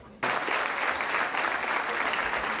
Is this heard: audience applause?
yes